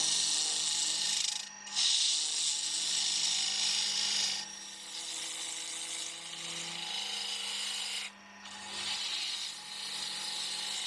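A spindle gouge hollows out wood turning on a lathe, giving a continuous hissing, scraping cut with brief dips as the tool lifts away. The sound is loud and close, with a low motor hum underneath.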